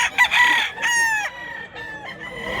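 A rooster crows at a poultry market in Mantalongon, Barili, Cebu, a loud, close call with a rising, held, then falling shape, ending in softer trailing notes. No speech over it.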